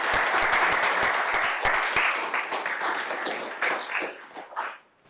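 An audience in a college seminar room greets speaker Dale Darling with warm applause. A lively patter of many hands claps for a few seconds, then thins out and fades away.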